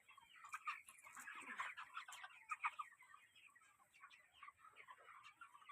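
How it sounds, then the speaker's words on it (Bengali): Chickens on a chicken farm cluck steadily while they feed, a busy, overlapping chatter of many birds heard fairly close, with no voices. "এখানে দেখো মুরগিগুলো খাচ্ছে"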